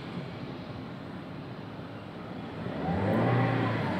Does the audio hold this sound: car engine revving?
yes